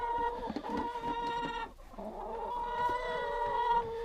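Hens cluck and croon nearby in a busy, overlapping chorus, with a brief lull before the murmuring calls resume.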